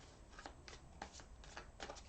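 Tarot cards being shuffled by hand during a full moon lunar eclipse reading, a soft papery riffle of repeated card slaps in quick uneven bursts, close and fairly quiet with no talk.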